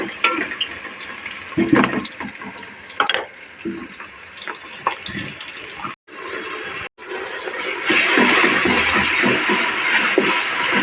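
Ginger and garlic drop into a hot pan for a meat-free mutton-style biryani, a burst of sizzling and frying that swells louder and steadier toward the end, with clattering and handling noises before it.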